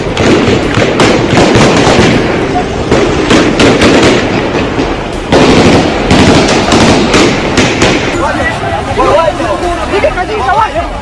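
Rapid, loud cracks of Taliban gunfire burst in dense volleys, overlapping with a shouting crowd of women that grows more agitated as the shooting continues.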